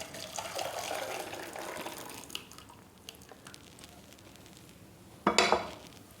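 Thickened, boiled milk poured from a pan into a bowl while making bread rasmalai, a soft, continuous liquid splash for a couple of seconds, followed later by a brief, sharper clink of the vessels.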